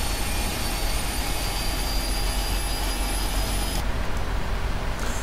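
An airliner jet engine spools up in a flight simulator game, giving a continuous steady whine and roar with a faint tonal hum over the whole stretch, then the high end drops away near the end.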